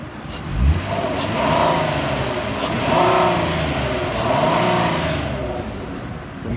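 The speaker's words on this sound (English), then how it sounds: "I'm gonna rev it up so you can hear it." A 2014 Ford Explorer with 132,000 miles revs up several times from idle, the engine note swelling and falling in three or four smooth surges, close and steady with no talk.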